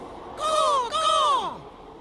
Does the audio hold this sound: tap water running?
no